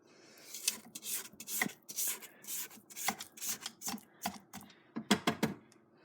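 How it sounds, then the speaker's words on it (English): Wiping down a mixing bowl while making chocolate chip cookie bars gives a string of close, soft rubbing and scraping strokes in irregular bursts, with brief pauses between them and no talking. "So, wiping down the bowl again."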